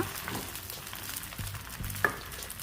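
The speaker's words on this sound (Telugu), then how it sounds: "పెండం వేడెక్కాక కొద్దిగా ఆయిల్ అప్లై చేసేసి దోశను వేసుకొని" Dosa batter sizzles softly on a hot oiled pan, a faint steady crackle with a few small pops and scraping touches, close by.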